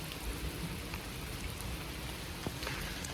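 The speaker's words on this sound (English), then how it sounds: "this wonderful samurai castle in heavy rain" Heavy rain falling at Tsuyama samurai castle in Okayama, Japan, a dense steady patter of raindrops on surfaces close to the microphone, with a few louder drips, no talk.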